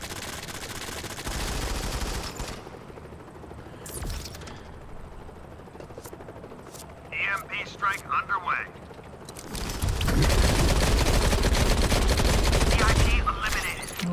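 Automatic gunfire in the mobile shooter Modern Combat 5: loud sustained bursts at the start and end, with a short rattling burst in the middle and quieter game sounds between, no talking.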